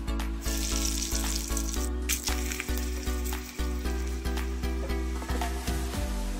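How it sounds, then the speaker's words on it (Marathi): Asafoetida and spices crackling in hot oil for a dal tadka, a steady loud sizzle with repeated sharp pops and stirring clatter throughout, alone with no talk. "आता आपण डाळीला तडका देतोय"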